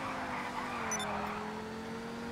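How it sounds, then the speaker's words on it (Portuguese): A car doing a burnout to heat its tyres in GTA 5 Online: a loud, sustained engine drone with a steady whining tone throughout, held at a constant roar for the whole short stretch. "Esquenta os pneus aqui!"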